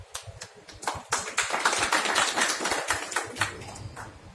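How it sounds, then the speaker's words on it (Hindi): Audience applause for actor Sunil Issar at a stage event, a crowd of hands clapping steadily and fairly close, swelling in the middle and thinning toward the end. "मुझे लगता है उनके लिए ताली बजनी चाहिए।"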